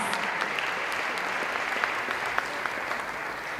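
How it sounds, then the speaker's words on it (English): An audience at a school district urban forum applauds steadily, a dense even wash of many hands clapping throughout, loud and close. "Let's give our scholars and our teachers a wonderful applause."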